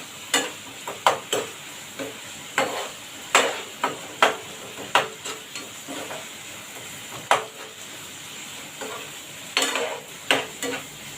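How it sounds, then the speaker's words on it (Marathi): Onion and tomato sautéing in a pan for paneer bhurji: a low continuous sizzle broken by repeated sharp spatula scrapes and taps against the pan, close and rhythmic, without speech. "आता 2 मिनिटं चांगलं अजून परतून घेणार आहे"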